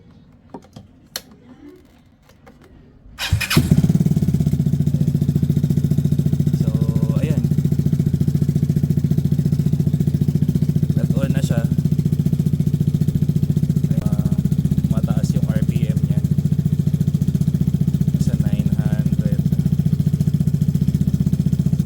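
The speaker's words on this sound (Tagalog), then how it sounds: "in-start mo na yung engine ng uh, Vespa mo or kahit anong motor mo" A Vespa Primavera scooter engine with a Termignoni full exhaust turns over at about three seconds and settles into a steady, continuous idle that runs to the end, with faint clicks over it.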